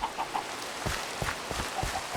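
Minecraft server chickens clucking in a game, several short soft clucks and taps in an uneven rhythm at low volume, no voices.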